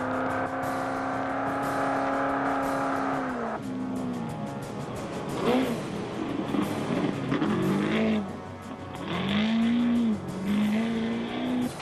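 Off-road pro race trucks in a desert endurance race roar past through the dust one after another, engines droning loud and close, then revving and surging as each blasts by.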